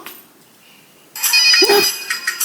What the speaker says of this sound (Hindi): अब एटलीस्ट ये अपना फोन, डग्गू को साउंड सुना दो।